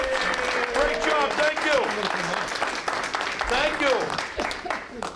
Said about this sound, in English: round of applause for Post 306